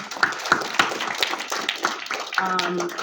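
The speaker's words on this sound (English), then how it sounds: "So just give a round of applause to lead Allison Esposito" Scattered clapping from a small audience at a New York GOP launch event held at a temple, a few distinct claps in irregular rhythm that thin out quickly.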